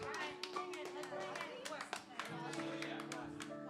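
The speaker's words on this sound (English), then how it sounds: "but some of them are clapping" Scattered audience claps at a performance, a handful of sharp, sparse hand claps, fairly faint, beneath someone speaking.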